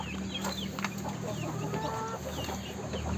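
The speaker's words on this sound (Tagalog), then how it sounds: "Then, meron din dito yung mga pato." Ducks in a backyard pen quack and chatter continuously at close range, with several overlapping calls and a steady background hum throughout.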